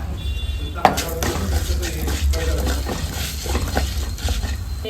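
Coriander seeds are dropped into coconut oil and roasted in a pan for a fish curry, with a sharp clatter, scraping and knocking of a spoon against the pan over a low sizzle, close up, with brief speech.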